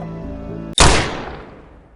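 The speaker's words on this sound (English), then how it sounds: "Then I heard the gunshot." A single sharp gunshot from the I Am Your Beast video game cracks loudly out of a quiet hum and rings out in a long fading tail.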